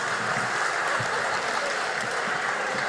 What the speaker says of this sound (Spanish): Dejen de aplaudir, no sean pelotudos.